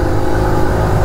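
A TVS XL 100 2023 BS7 moped engine revs steadily on the throttle, a continuous close, loud mid-pitched buzzing drone with no pauses for about a second.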